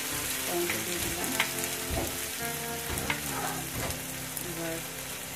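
Two large chopped tomatoes with ginger-garlic paste sizzle and fry steadily in a pan for butter chicken, a loud continuous crackle with occasional stirring scrapes.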